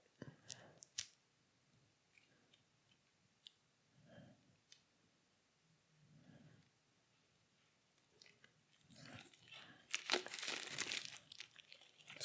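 Plastic wrapping crinkles while a board game is unboxed, faint scattered rustles and clicks that build into a loud, close burst of crackling near the end.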